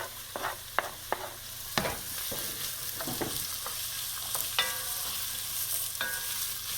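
Chopped carrots and celery sizzle in a pan over medium heat for a lasagna Bolognese base, with a burst of spoon knocks and scrapes early on, then a steady close frying hiss punctuated by occasional stirring clatter.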